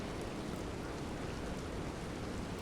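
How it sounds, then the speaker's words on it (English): Steady, even hiss of ambient rain over a city in the Star Wars: The Old Republic video game, a soft continuous wash with no separate drops or voices. "The rain is a perfect ambient effect for this type of a city."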